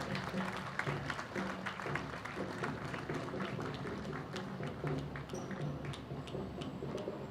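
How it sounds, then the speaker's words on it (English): Parade spectators clap for a fire department marching past the viewing stage, a fairly faint, scattered applause with distinct individual claps over a low outdoor background hum. "let's give another round of applause to the Bennington Fire Department"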